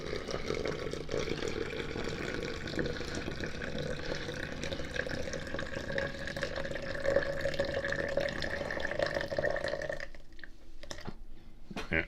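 Two cups of water poured from above into the center of a sprouting jar over seeds, a continuous close splashing and gurgling fill lasting about ten seconds before tapering into a few drips and small splashes.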